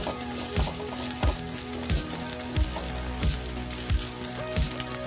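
A cooked rice and moong dal mixture is stirred in a hot pan, giving a dense continuous sizzle with a spoon scraping through it in regular strokes about every two-thirds of a second, close up and without speech.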